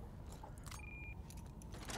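Keys jangling in the video game Dying Light 2, a few brief metallic clinks and rattles over a low steady rumble, fairly quiet with a short ringing tone in the middle.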